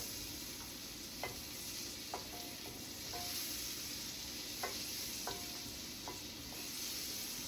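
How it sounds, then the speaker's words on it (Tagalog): Butter frying in a pan over medium heat for buttered shrimp, a steady low sizzle with a few light scraping clicks scattered throughout, close and fairly quiet with no voices. "Medium heat lang para hindi masunog yung butter."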